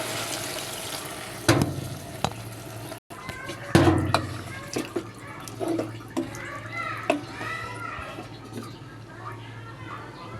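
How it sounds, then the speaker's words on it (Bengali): Water poured into a pan of frying vegetables, giving a burst of hiss and splashing over the ongoing sizzle, followed by clinks and stirring, with a voice talking over the cooking. "এ পর্যায়ে দিয়ে দেবো আমি পানি।"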